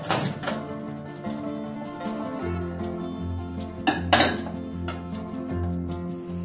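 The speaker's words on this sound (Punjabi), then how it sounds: "ਉਹਨਾਂ ਚੰਗੀ ਤਰ੍ਹਾਂ ਹਿਲਾ ਕੇ ਆਪਾਂ ਮਿਕਸ ਕਰਕੇ" Spoon stirring cumin, cinnamon and bay leaf in a microwave-safe dish for jeera rice, giving steady scraping with scattered clinks of metal on the dish and one brighter clatter near the end, close and alone.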